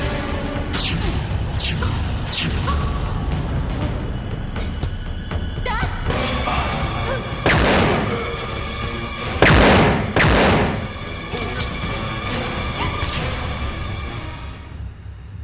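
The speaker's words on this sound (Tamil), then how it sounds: "இன்னும் ஒரு நிமிஷத்துல ஃப்ளைட் வெடிக்கிற சத்தத்தை கேட்க போறேன்." An airplane blows up in a dense barrage of heavy booms and blasts over a sustained roar, with the loudest bursts in the middle and explosions continuing throughout.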